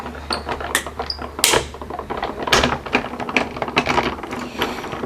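A die cutting machine runs a C plate and oval die through in a quick series of sharp clacks, crunches and cranking rattles, close up and uneven, with no talking.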